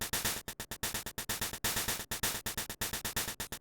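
A chiptune instrument note made in LSDj repeats in rapid bursts, each hit landing at a randomized volume, bright buzzy tones chopped into an irregular stuttering rhythm with no voices.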